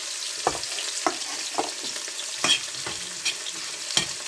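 Onion, green chili and curry leaves frying in hot oil produce a continuous bright sizzle. Regular stirring scrapes about every half second cut through it, close up and with no talking.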